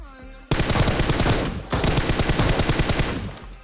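Automatic gunfire from the video game PUBG Mobile rattles in two long rapid bursts with a short gap between them, loud and dense, alone without speech.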